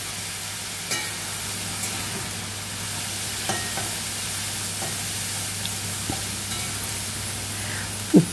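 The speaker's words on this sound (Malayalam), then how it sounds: "ഒന്ന് ഇളക്കാം." Chundanga thoran fries in a pan as salt is stirred in, a steady sizzle with soft periodic scrapes of the spoon and a sharper clink at the end, no talking.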